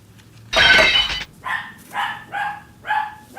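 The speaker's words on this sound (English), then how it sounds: "Wait for that dog." A dog barks several times in a room where a folding knife is being unboxed, one long loud bark burst followed by four shorter, evenly spaced barks, close by and with no talking.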